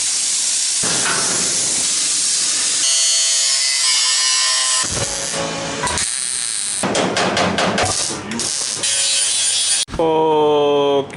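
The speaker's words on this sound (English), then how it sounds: "I'll just take some quicker cuts with the plasma and just cut some bigger pieces of it" A plasma cutter slicing metal panels on an airport limousine build, a loud continuous hiss and roar with shifting tone and brief pauses between cuts, close and alone without talk.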